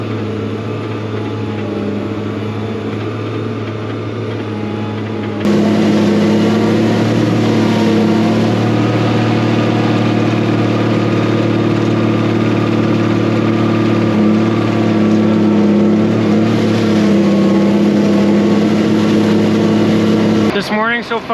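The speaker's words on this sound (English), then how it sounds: "I'm going in the slowest gear this tractor has" A heavy tractor engine drones steadily at a low, constant pitch in its slowest gear during barley silage harvest, growing louder partway through and holding there, with a voice talking over it.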